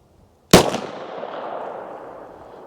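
A single sharp Canik pistol gunshot from a 5.2-inch barrel during a chronograph velocity test, loud and close, with a long echoing tail fading over about two seconds.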